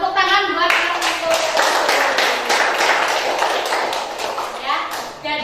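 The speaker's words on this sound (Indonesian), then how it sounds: "tepuk tangan buat yang itu." Classroom clapping for a student during a consumer behaviour lesson, a group of hands clapping in a fairly steady rhythm for several seconds, with a voice speaking at the start and end.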